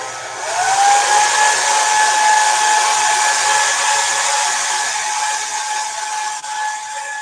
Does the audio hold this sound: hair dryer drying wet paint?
yes